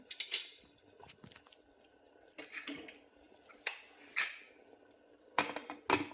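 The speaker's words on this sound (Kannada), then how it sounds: "ಇದನ್ನು ಈಗ ಕುಕ್ಕರ್ ಕ್ಯಾಪ್ ಮುಚ್ಚುತ್ತೀನಿ" A pressure cooker lid is closed over a pea and fenugreek-leaf pulao: several close, bright metallic clanks and scrapes arrive in separate bursts with quiet gaps between them.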